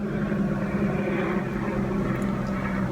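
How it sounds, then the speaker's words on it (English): A propeller airplane passes overhead outdoors, a steady low engine rumble and broad roar that hold at an even level for the whole stretch, with no talking. "Airplane."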